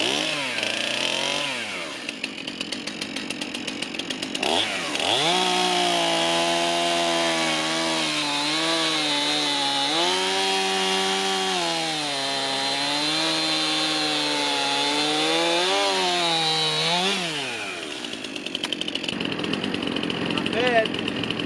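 Chainsaw fitted with a freshly sharpened budget chain cutting firewood, revving up then holding a loud, steady buzzing cut for about twelve seconds before easing off.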